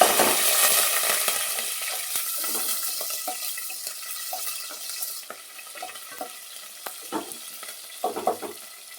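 Chopped green chillies drop into a tempering of oil with chana dal and a broken dried red chilli, a loud burst of sizzle that settles into steady frying with clinks and scrapes of stirring.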